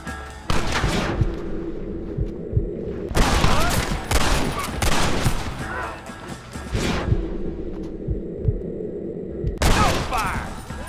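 Heavy gunfire in the video game Red Dead Redemption during a gate assault, with dense volleys of shots and crashes in repeated bursts, loud and close, with shouted game dialogue mixed in.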